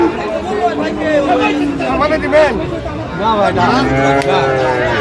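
Sahiwal bull calves mooing repeatedly and close by at a busy cattle market, over the chatter and babble of a crowd of buyers and sellers.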